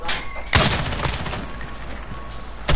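A sniper rifle fires twice in a Modern Warfare match: one loud, sharp crack early on and another right at the end, with steady game noise and background ambience in between.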